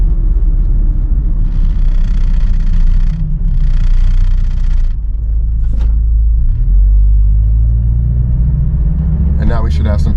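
A Saturn car with rough gear shifts slows and downshifts, its engine a loud, steady, low in-cabin rumble with slight dips, while a person talks over it.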